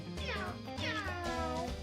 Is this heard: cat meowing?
yes